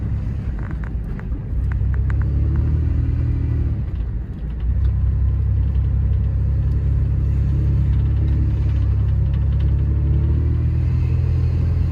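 A pickup truck with a freshly installed drive shaft and new CV axles drives around the block, its engine a steady close rumble inside the cab with a brief dip in the middle as it shifts or slows.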